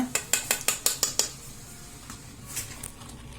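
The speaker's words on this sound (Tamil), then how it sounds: "இப்போ இந்த மாவை வந்து இதில் கொஞ்சம் கொஞ்சமாக போட்டு கலக்கிக்கலாங்க." Ground roasted rice flour added to a pan for pori arisi urundai, opening with a quick run of about seven metallic spoon taps on the pan, then quieter scraping and stirring, close by.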